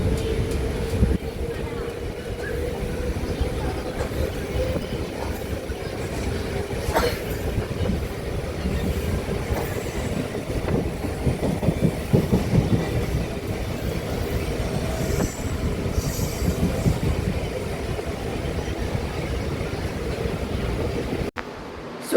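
An empty-rake Chennai Central to Ahmedabad Junction weekly superfast express, running with an LHB rake, rumbles steadily past close by for over twenty seconds, with continuous wheel and coach noise and faint squeals before it cuts off abruptly.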